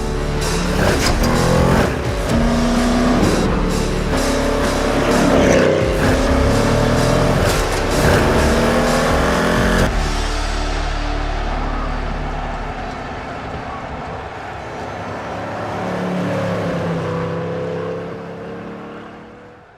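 A Mercedes 300 SEL with a 6.8-liter V8 runs loudly, its engine note rising and falling as it revs for about ten seconds before settling into a quieter, softer drone.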